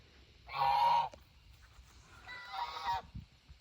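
Two geese honk in loud bursts, a longer harsh call followed after a pause by a second one, close by against a quiet outdoor background.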